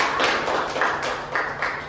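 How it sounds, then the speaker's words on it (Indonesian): Classroom applause for a student named Tiara during a peer-teaching lesson in a combined class, a dense steady patter of many hands clapping together, fairly close and continuous with no talk over it. "berikan tepuk tangan untuk Tiara"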